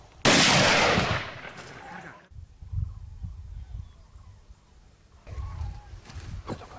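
A single loud hunting rifle shot fired at a wild boar among olive trees during a Spanish driven hunt, a sharp blast with a decaying echo, followed by quieter rustling and low ambient noise in open countryside.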